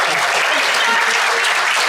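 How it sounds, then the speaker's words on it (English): Applause fills a school board of education meeting, a dense, steady clapping from the audience lasting a couple of seconds with no break. "One more round of applause."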